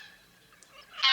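A single goose gives a loud, sharp honk near the end, after a few faint calls in the open tundra.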